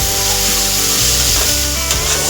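Chana dal and onion sauté in a pan for a cabbage and chana dal bhaji, giving a loud, steady close-up sizzle broken by occasional stirring scrapes, with no talking.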